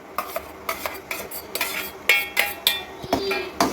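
Cream stirred into hot sweetened milk for a coconut sweet, with a spoon clinking and scraping against the pot in quick, close, repeated strokes.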